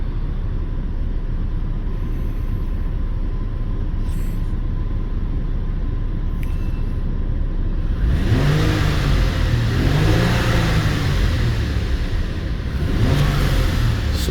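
A 2008 Lincoln MKX with an injector driver fault idles steadily during a brake torque test, then revs up loudly in several surging pulls that rise and fall near the end.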